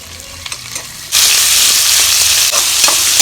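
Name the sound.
sliced large onions frying in oil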